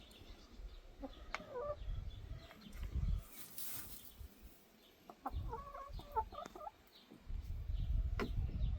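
Free-range hens cluck in short, scattered bursts at moderate distance over a low rumble of wind or handling noise, with several pauses between calls.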